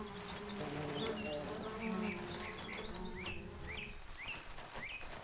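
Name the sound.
bees buzzing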